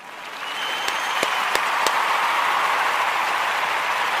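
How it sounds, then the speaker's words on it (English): Steady, even applause from a gathered group for the Kujichagulia babies, a wash of clapping with a few sharp individual claps standing out early on. "I want to give all of the Kujichagulia babies a round of"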